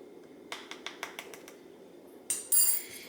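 A spoon clinks several times against a bowl while stirring dry dip mix into a low-calorie ranch dressing made with Greek yogurt, a quick run of close taps followed by a louder scrape and clatter.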